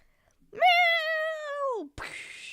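A single drawn-out cat meow, loud and close, with a clear rising-then-falling tonal cry lasting over a second, followed by a burst of broadband noise.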